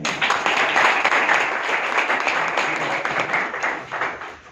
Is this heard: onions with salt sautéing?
no